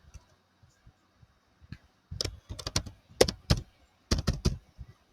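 Computer keyboard keys typed in short bursts of quick, close clicks, sparse at first and then denser, with a brief spoken remark in between.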